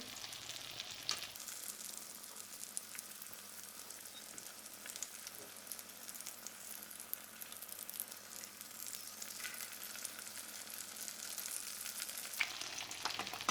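Crispy sausage sticks fry in an oily pan, a continuous soft crackle and sizzle carrying on steadily, fairly quiet and close, with faint scrapes as they are turned and no talking.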